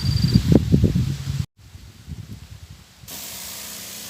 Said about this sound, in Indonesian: sekarang kita aplikasikan dan langsung kita semprot